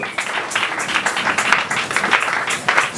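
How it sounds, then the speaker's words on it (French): Members of an evangelical church congregation applaud at a Sunday service, a dense, steady wash of clapping and cheering that carries on without pause, close and full. "on acclame très fort pour la parole de Dieu"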